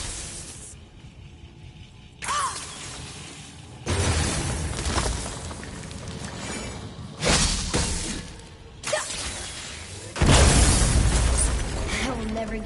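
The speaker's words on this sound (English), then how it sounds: "never get tired of shattering things with this" Objects shatter repeatedly in the God of War video game, a series of sharp crashing bursts and breaking debris spaced a few seconds apart, with whooshes between them and a loud final smash.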